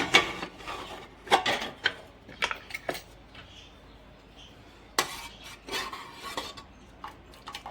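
A metal spoon clinks and scrapes against a cooking pot while boiled urad dal is being checked and stirred, in a series of sharp, irregular knocks with quiet gaps between them and no talking.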